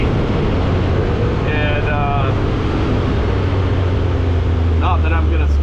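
A Segway SuperVillain 2000cc UTV with a six-speed automatic drives along a street, its engine a steady low rumble under heavy wind roar, while someone talks over it.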